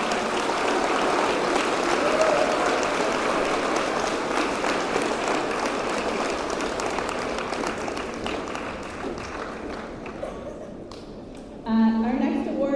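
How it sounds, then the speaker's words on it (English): Audience applause for parents at an 8th grade recognition ceremony in a middle school, sustained and full for about ten seconds before fading as a voice begins speaking. "can you give your parents a round of applause for helping you be so awesome?"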